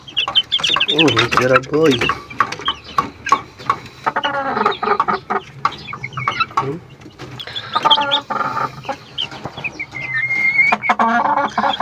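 Two-month-old chickens cluck and chatter close by in a lively, overlapping stream, with someone talking to them over the birds now and then.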